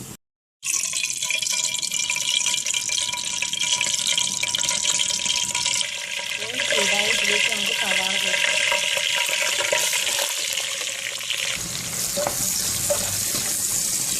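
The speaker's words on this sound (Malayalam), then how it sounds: "ഇതിലേക്ക് നമുക്ക് ഓയിൽ ഒഴിക്കാം" Oil poured into a hot biryani pan on a stove for squid biryani crackles and sizzles steadily throughout, growing busier partway through, with a voice faintly present.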